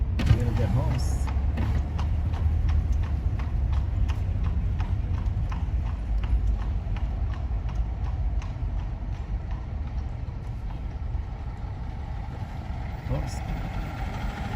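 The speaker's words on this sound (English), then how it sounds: "Sound of the horse. Do you hear the horse?" Horse hooves clip-clop steadily on pavement on a trip from Queens to Manhattan, a regular close rhythm of sharp knocks under a constant low engine and traffic rumble, with no talking.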